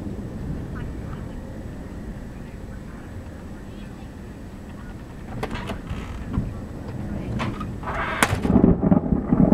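Thunder rumbles during a thunderstorm after lightning. It is low and steady, then swells louder and rougher toward the end.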